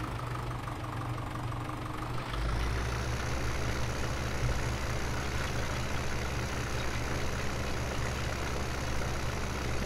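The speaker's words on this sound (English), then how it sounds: "I'm just going to turn my tractor volume up a little bit." A tractor engine in the video game Farming Simulator 17 idles steadily, then revs up to a louder, deeper drone that holds constant to the end, with no talking.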